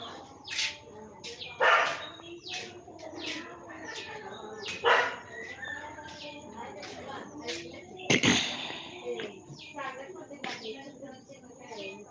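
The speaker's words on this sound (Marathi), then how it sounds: "रॅम्बोचा आवाज येतोय भुंकण्याचा" A dog barks a few times, spaced apart and moderately close, while birds chirp and tweet steadily in the background.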